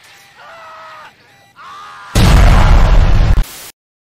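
After a sung line, a loud, close cartoonish explosion bursts out for about a second and a half before cutting off into silence.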